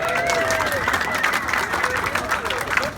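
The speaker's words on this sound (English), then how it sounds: "You got to give applause on this one." An audience claps in a hall, a continuous medium-loud patter of hands with crowd murmur and a voice speaking over it.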